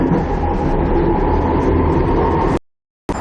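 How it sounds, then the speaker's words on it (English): A TriMet MAX light rail train pulls out of a station and heads back downtown, a loud, close, steady rumble of rolling wheels and motor that cuts off abruptly near the end. "There was the train I was on, pulling out, going back downtown."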